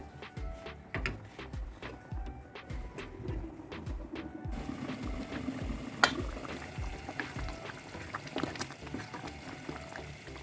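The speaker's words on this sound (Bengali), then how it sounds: "আমি একটু পরে পরে সিদ্ধ না হওয়া পর্যন্ত নেড়ে দিব" Pot of beef curry with light spicing simmering on the stove, a soft steady bubbling with scattered small pops and clicks, close and fairly quiet, no talk.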